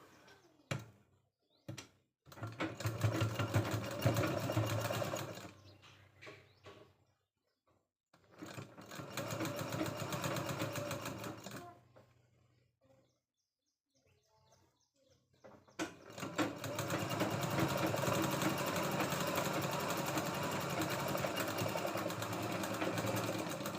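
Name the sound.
sewing machine stitching a katori blouse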